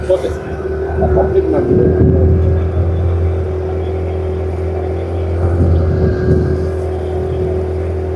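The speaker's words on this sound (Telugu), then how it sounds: "పడవ ప్రయాణం." A boat motor drones steadily up close on a lake, with voices talking over the engine noise.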